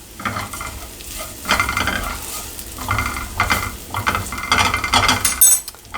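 A noisy pan rattling and scraping as pickled radishes are stirred with sugar, with clattering utensil knocks and faint sizzling in uneven bursts, close and fairly loud.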